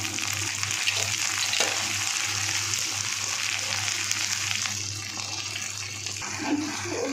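Onions sizzle and crackle steadily in a hot pan, a constant frying hiss with occasional stirring noises and no talking.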